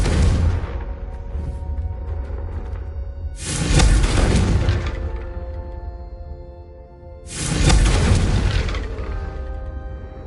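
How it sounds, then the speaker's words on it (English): Confringo fire spell explosions in Hogwarts Legacy: two or three big booming blasts a few seconds apart, each a loud broadband burst that decays into a long rumbling tail, with no talking. "a Confringo cast travels a bit farther than that of a spell like Incendio"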